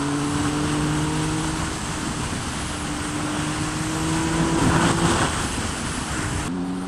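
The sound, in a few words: 2016 Triumph Speed Triple 1050 R motorcycle engine while riding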